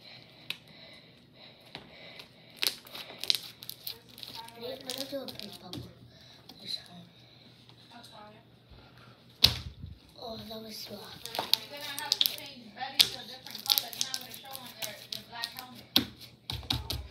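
Slime being squished and played with gives off bursts of sharp clicking and popping, close and irregular, with talking throughout.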